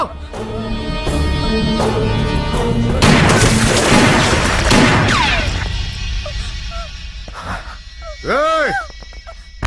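Gunshots in a film fight scene, several loud booming blasts and crashes clustered in the middle, mixed with a dense score and effects, followed by sparser hits and a short tonal sound near the end.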